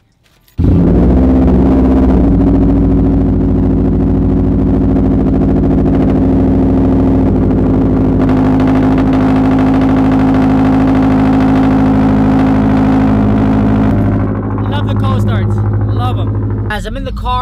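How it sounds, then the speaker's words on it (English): Subaru WRX STI with a Stage 1 tune fires up from cold: a sudden loud ignition, then a steady, heavy, rumbling idle that holds close and constant, dipping slightly near the end. "Guys, I almost forgot a cold start."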